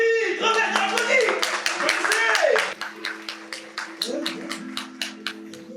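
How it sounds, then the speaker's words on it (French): Applause from an audience at a storytelling show, a clapping burst under a voice that turns into a quicker rhythmic run of claps. "Crevette, on applaudit pour lui! Crevette, on applaudit!"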